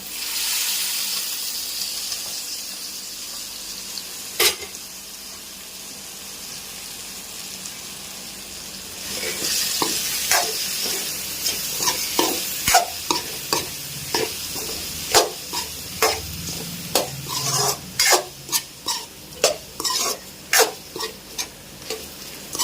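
Liver fry stirred in a hot pan, with a soft sizzle at first, then a spoon scraping and stirring in quick, uneven strokes that grow louder and more rhythmic toward the end, close up and with no talk.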